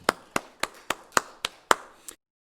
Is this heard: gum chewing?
no